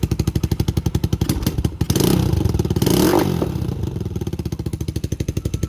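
A Lifan 150 engine fitted in a KP Mini motorcycle idles while warming up, with a steady rapid putter close by that swells briefly in the middle as the throttle rises and then settles back to an even idle.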